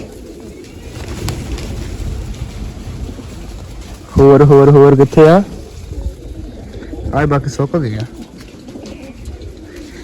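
Large pigeons in a loft coo repeatedly at close range, low throaty calls rising in a cluster midway, while someone talks over them and some background bustle continues.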